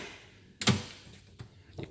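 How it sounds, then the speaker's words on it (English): A classic AMC car door opens with a single solid thunk and latch click, close and fairly loud, followed by softer small knocks in a quiet space. "So we'll start in here, opening up the door."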